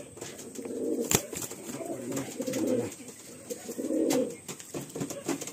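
Soft, low coos of Madrasi and Andhra pigeons repeat in short rolling phrases, fairly close, with faint rustling and a sharp click between them.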